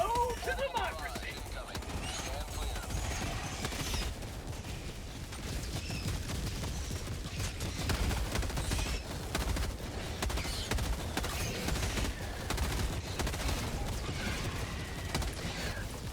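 Assault rifle fire in Helldivers 2, repeated bursts of rapid shots with sharp cracks and clattering mechanisms, loud and close over a rumbling game background.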